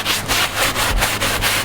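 A hand brush scrubs the seat of a Kenworth vac truck during interior detailing, making a steady, close, rhythmic rasp of quick back-and-forth strokes with no talking.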